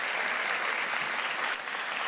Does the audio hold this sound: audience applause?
yes